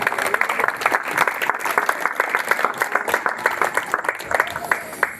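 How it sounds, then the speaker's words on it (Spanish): A church congregation gives loud applause for the Heavenly Father, sharp rapid claps from many hands close by, sustained and slightly uneven throughout. "Dale un fuerte aplauso a ese Padre Celestial, la gloria de Él"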